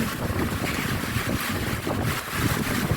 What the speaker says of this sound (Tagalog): ang lakas ng hangin dito, guys